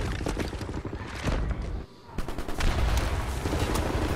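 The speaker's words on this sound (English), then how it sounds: "Right, lads, you ready to lay down suppressor fire?" Heavy suppressing gunfire in the shooter Wolfenstein: The New Order, dense overlapping rifle and machine-gun shots crackling continuously, dropping out briefly for a dull thud before resuming at full, loud intensity.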